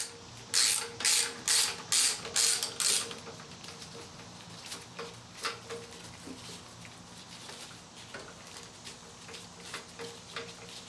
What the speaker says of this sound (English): Then just loosen the tensioner bolt right here, and you'll be able to remove the belt